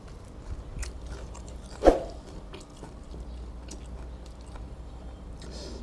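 Someone eats crunchy krachiao flowers with a frog chili dip: one loud close crunching bite, followed by soft ongoing chewing.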